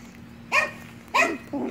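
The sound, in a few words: chihuahua dog barking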